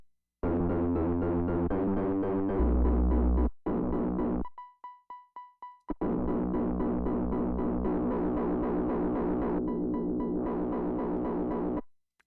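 A cloned synth stab on its own channel in an electronic music production, repeated stabs and chords in a pulsing pattern with sudden dropouts and a short stretch of sparse high tones, loud and continuous with no talking.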